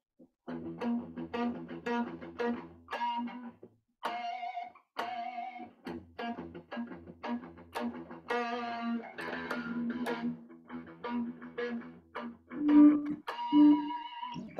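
Electric guitar played with palm muting and a partly hidden pick, giving a string of short, choppy plucked notes and occasional squealing pinched harmonics, close and moderately quiet.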